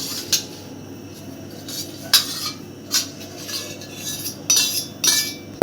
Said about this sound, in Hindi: अच्छे से पूरा मिक्स कर लेंगे